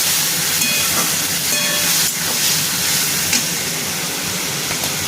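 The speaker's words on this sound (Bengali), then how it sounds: "আর একটু সামান্য জল দিয়ে এটা কষাবো" Spices with turmeric and red chili powder sizzling hard after a little water is added while cooking a dried fish curry, a dense continuous steamy hiss, loud and close, with faint utensil clinks.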